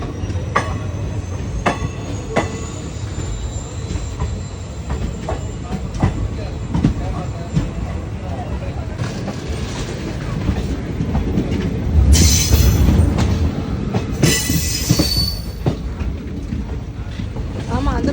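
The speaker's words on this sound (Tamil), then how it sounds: "இது என்ன ட்ரெயின்?" A train rolls past near Rameshwaram station, its wheels clicking rhythmically over the rail joints under a steady rumble, then squealing loudly on the rails partway through before the clatter continues.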